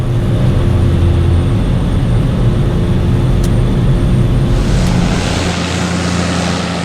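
A Cessna Caravan seaplane on floats drones steadily overhead, a loud continuous propeller and turbine roar with a slight hiss rising near the end.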